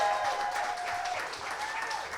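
Audience applause at a North Carolina GOP event, a dense steady burst of clapping filling the short stretch, with a voice faintly audible underneath.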